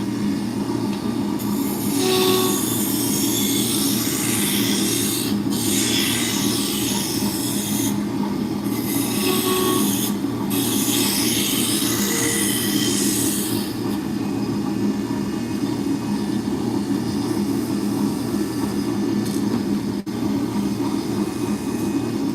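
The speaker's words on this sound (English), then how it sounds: "So now we're going to switch from the roughing gouge to a spindle gouge." Wood lathe spinning a drop spindle blank while a spindle gouge cuts it: a loud, steady whirring drone with a continuous scraping hiss that carries unbroken through the whole stretch, with no talking.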